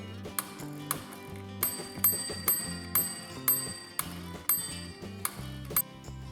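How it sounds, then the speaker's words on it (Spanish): An electromagnetic bell in a school electricity and magnetism demonstration, ringing in sharp metallic strikes each time current is applied, a series of bright dings with ringing decay over a low rattling hum, close and without talk. "cada vez que le meto corriente positiva, se me produce la activación del timbre"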